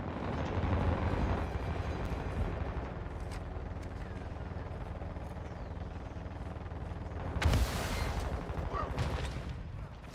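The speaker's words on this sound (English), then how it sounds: "Hostile mortar strike near your position." In Call of Duty: Modern Warfare II, mortar strike explosions make a dense, rumbling wall of battle noise, with one sharper, louder blast standing out midway through.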